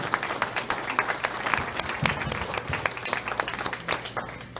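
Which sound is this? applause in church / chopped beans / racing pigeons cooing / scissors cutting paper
applause in church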